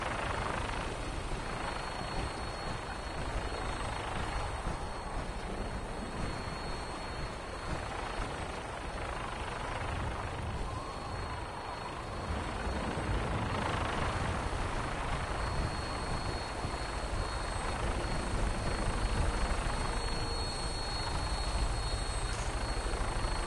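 A Vertibird aircraft lifts off in the video game Fallout 4 with a continuous loud rotor drone and engine roar that holds steady throughout, with no voices.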